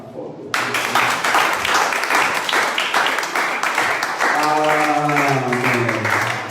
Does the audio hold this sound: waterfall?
no